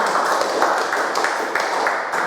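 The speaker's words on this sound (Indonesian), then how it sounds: "tepuk tangan untuk kelompok" A classroom group claps for fellow students who just finished presenting, steady dense clapping from several people filling the room throughout, with no pauses.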